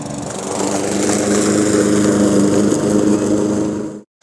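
A lawn mower runs steadily and loudly at close range while mowing a lawn, its engine droning without pause before cutting off abruptly at the end.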